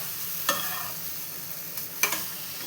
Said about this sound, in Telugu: ఇలా మీడియం ఫ్లేమ్లో పెట్టుకుంటూ మధ్య కదుపుతూ ఉండాలి